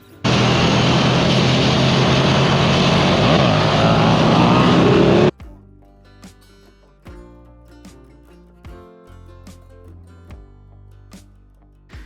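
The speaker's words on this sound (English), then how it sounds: "it's like such a big twin that even the starter motor seems like it's complaining when it's trying to fire" A big twin-cylinder engine on a Suzuki naked motorcycle is cranked over by a laboring starter, then fires and settles into a loud, steady roar for about five seconds before cutting off; quieter mechanical ticking and clatter follow.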